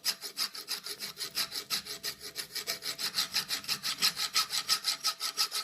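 A hand file scrapes the burr off a ship auger drill bit in quick, even back-and-forth strokes, a steady rasping rhythm of about five strokes per second, close and fairly quiet.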